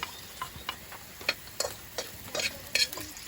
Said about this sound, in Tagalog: So ayan, naluluto mo na yung bawang, sibuyas.